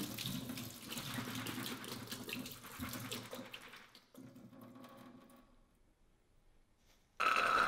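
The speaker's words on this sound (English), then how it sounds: "Drain the soaking water, rinse the beans, and add them to a medium saucepan together with a bay leaf." Soaked beans being rinsed under a running kitchen tap, a steady splashing stream of water for several seconds that fades quieter before a brief louder burst at the end.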